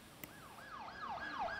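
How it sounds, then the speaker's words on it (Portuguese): An ambulance siren in the hospital management game Project Hospital, a wailing up-and-down tone rising in loudness as it arrives, with a brief click near the start and no voices. "Mais uma ambulância chegando."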